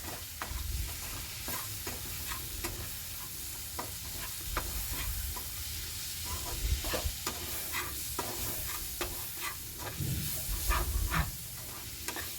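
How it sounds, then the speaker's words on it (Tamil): Noodle sauce with ketchup and chilli sauce stirred in a pan over a low flame, a steady soft sizzle with repeated scraping strokes of a spoon throughout, no voices. "இப்போ நீங்கள் இந்த டைமில் வந்து கொஞ்சம் லோ ஃப்ளேம் வச்சு நல்லா கிண்டி விடுங்க"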